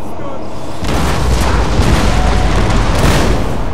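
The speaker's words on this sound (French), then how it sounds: "Les canons, ils vont de manière YOLO." Cannon fire from a Napoleonic battle in Napoleon: Total War, a dense, loud rumble of booming blasts that rolls on continuously throughout.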